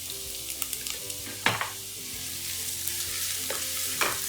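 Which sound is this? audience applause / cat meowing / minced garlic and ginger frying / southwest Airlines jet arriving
minced garlic and ginger frying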